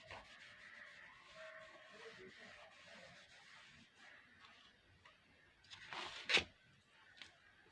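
Writing is rubbed off a board during a maths lesson, soft repeated wiping strokes that build to a louder scrub near the end, under light room noise.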